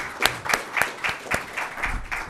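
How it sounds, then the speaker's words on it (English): A small audience claps for a panel at a drought briefing, a fairly faint, sparse round of individual claps with distinct, spaced hits rather than a dense roar, heard alone without talk. "I'll give a round of applause to our panel"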